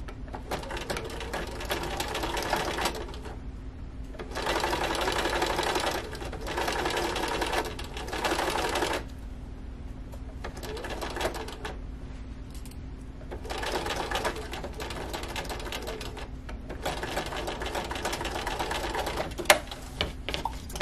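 A sewing machine stitches fabric for a bench/ottoman slipcover, running in several steady close bursts with short pauses between them and no talk over it.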